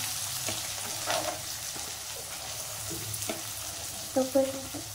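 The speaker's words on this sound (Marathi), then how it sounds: "अद्रक लसूणची पेस्ट टाकायची. कांदा टाकून द्यायचा." Onion and ginger-garlic paste frying in hot oil with cumin, a low continuous sizzle broken by a few spoon scrapes and metallic taps near the end, close up and without talk.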